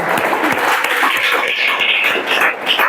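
A classroom of students claps together in a sustained burst of dense, overlapping applause, loud and close throughout, with no talking over it.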